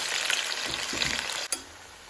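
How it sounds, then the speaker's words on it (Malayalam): Papaya slices fry in hot oil with a steady close-up sizzle and crackle, broken near the end by a brief knock or clatter. "ഇനി അതേ എണ്ണയിലേക്ക് നമ്മുടെ റെഡിയാക്കി വെച്ച പപ്പായ ഇട്ട് വറുത്ത് കോരുക"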